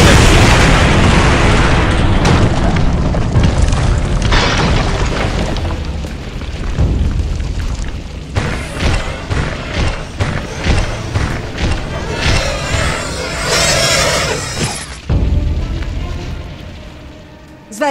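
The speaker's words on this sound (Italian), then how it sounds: "Il suolo trema, lo senti?" Deep rumbling booms and crashing bursts as the ground trembles in The Witcher video game, loud and continuous at first, then breaking into repeated thuds and blasts, with a faint voice underneath.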